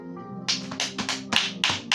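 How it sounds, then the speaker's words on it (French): A few sharp claps land in a loose rhythm over sustained musical tones during a church service, each clap a distinct burst roughly every quarter second to half second. "Est-ce que tu peux applaudir là où tu es?"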